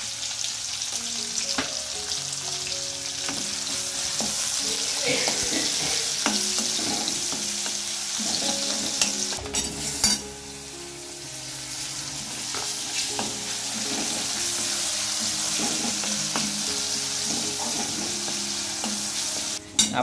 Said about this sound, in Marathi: फोडणी द्यायची तयारी.